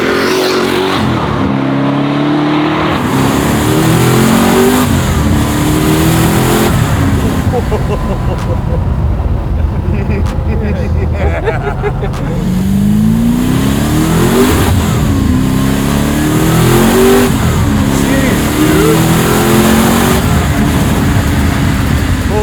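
A twin-turbo Ford Mustang built in the style of the Hoonicorn revs and accelerates hard, its loud engine note rising and falling in repeated sweeps. Voices talk faintly underneath.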